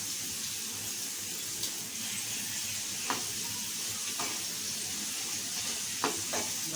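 Cumin seeds and curry leaves sizzle in hot oil for tempering, a continuous close crackling hiss with occasional sharper pops, no talking.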